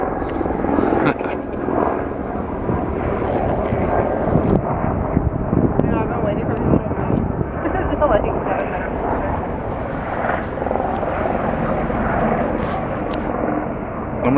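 A helicopter's rumbling rotor noise fills the air continuously at the Grand Canyon's Eagle Point, mixed with wind buffeting the microphone and people talking nearby.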